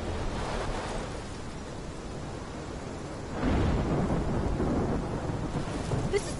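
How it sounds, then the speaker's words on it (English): Thunderstorm in the video game Life is Strange, a broad rumbling roar with steady rain hiss that swells into a louder thunder roll halfway through, with no voices. "This is my storm!"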